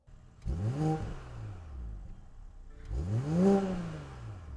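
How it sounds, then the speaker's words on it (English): BMW X5 with the B58 engine revved twice from idle, each blip rising sharply then falling back, heard from close by with a brief gap between the two revs and no talk. "Not that it's going to sound great, but we should still take a look at what this car sounds like."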